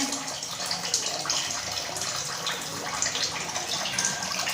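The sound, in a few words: squeezing water out of washed bitter gourds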